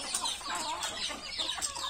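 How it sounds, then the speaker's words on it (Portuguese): A hen clucks steadily to call her chicks in a farmyard at feeding time with corn, soft repeated clucks mixed with high peeping chicks close by. "Olha lá, a galinha vem e chama os pintinhos."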